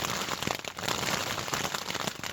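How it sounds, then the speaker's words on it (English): Rain falls on a tent during a thunderstorm in the Colorado wilderness, a dense, steady patter close overhead with scattered louder drops, heard alone with no voices. "I just want this rain to stop"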